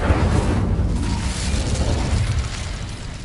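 An Incendio fire spell bursts in Hogwarts Legacy on PS5, a loud whooshing boom at the start that roars on and slowly fades over a few seconds, with no talk.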